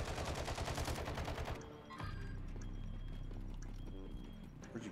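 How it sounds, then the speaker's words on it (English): Video game firefight with multiple shooters, a dense loud burst of rapid automatic gunfire that cuts off, then scattered distant shots and rumbling over a steady background. "They're all shooting over here."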